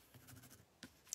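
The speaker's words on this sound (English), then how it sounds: "So I'm just gonna write on here" A pen writes on the backing of a mesh craft stencil, making a faint, close scratching of short strokes followed by a couple of light taps or clicks.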